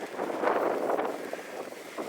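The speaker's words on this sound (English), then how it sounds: "it's windy over this side" Wind gusts buffet the microphone in a continuous low rumble, rising and falling, with no voices, near Kylesku Bridge in Scotland in winter.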